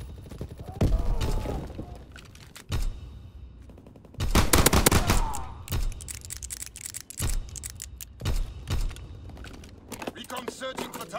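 Call of Duty strafing run: repeated heavy bursts of rapid aircraft gunfire sweeping in, separated by short pauses, loud and close, with game voice callouts between bursts.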